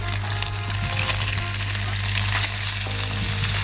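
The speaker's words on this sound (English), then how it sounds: "Next guys, I'm going to add my onions." Spring onions hit a hot pan after chorizo has released its oils, setting off a loud, steady sizzle with occasional stirring scrapes, alone without talk.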